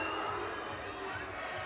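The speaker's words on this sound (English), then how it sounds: "you're getting boos here from the crowd" A fight crowd at the Clan Wars 47 event, broad and steady, booing the early end of the bout: a continuous dense roar of many voices, moderately distant, with no single voice standing out.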